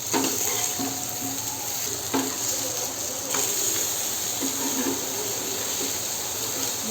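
Surmai fish frying on a hot tava after being flipped, a steady soft sizzle with faint scraping touches, close and alone without talk.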